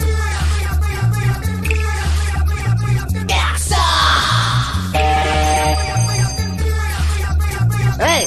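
A phone ringtone plays a repeating melodic pattern close by, with a short burst of noise partway through and a brief yell.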